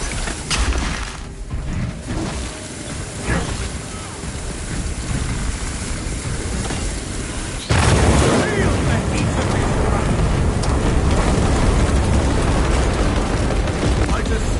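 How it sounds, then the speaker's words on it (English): Detonation in Warhammer 40K: Space Marine 2 sets off a sudden loud, sustained blast roar, with a rumbling wash of wind-like noise before it. "You are clear to detonate. Cook those rotten bastards."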